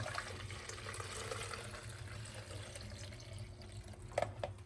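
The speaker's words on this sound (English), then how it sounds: "first thing you have to do is fill the water reservoir" Water pouring into the reservoir of a Senseo 7820 coffee maker, a quiet, steady trickling fill with a low hum underneath and a couple of brief knocks near the end.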